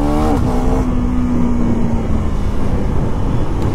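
A KTM Duke 390 Gen 3 motorcycle rides through busy traffic on a wet road, its engine a steady close drone with a brief rising rev at the start, then constant road and engine roar throughout.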